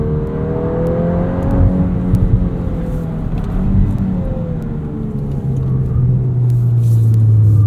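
A 2023 Volkswagen Golf R manual, 20th Anniversary Edition, drives hard with a loud steady engine drone and rising revs, tire and road rumble underneath, heard from inside the car.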